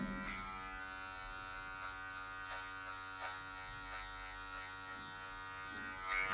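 Electric hair clippers fitted with a number 1 guard cutting a fade on dark hair, a steady faint buzzing hum running throughout with a slight click at the end.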